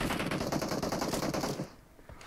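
An M416 rifle in PUBG Mobile fires a rapid, loud, close automatic burst for about a second and a half, then stops, leaving faint rumble.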